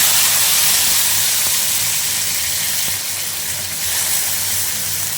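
Ginger, green chili and tomato paste frying in a pan, a steady close sizzle and hiss that runs unbroken throughout with no talking.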